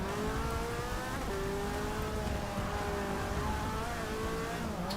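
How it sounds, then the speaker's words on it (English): Several BTCC touring cars circle the Catalunya circuit in the racing game Forza Motorsport 6, their engines droning steadily and loudly with shifting pitch as they rev through a corner, with no talk. "Or is the BTCC car is going even slower somehow."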